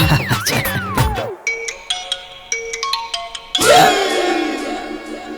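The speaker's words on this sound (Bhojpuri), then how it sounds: "अरे ये फोन क्या कर बजाता? अरे वो दुल्हन के रिंगटोन।" A mobile phone ringtone plays a bright electronic melody: a sliding tone, then a run of short plinking notes, then a louder swelling phrase, all close and prominent with no talk.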